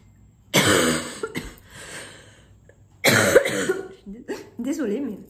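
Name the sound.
persistent cough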